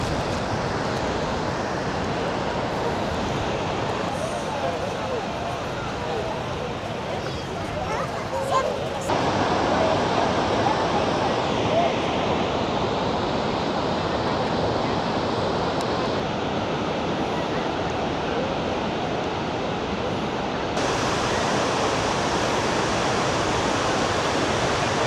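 Continuous roaring rush of Victoria Falls in Zimbabwe with blowing spray, loud and broadband, with wind buffeting throughout and voices faintly mixed in.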